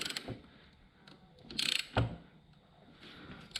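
A hand tool turns a bolt on a Yamaha YZ 250F engine, giving a few close ratcheting clicks and metallic creaks separated by short pauses.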